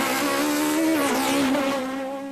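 A Peugeot 306 Maxi Evo hillclimb car's naturally aspirated engine revs high and steady, its loud harmonic whine dipping briefly mid-clip before climbing again, with no voices present.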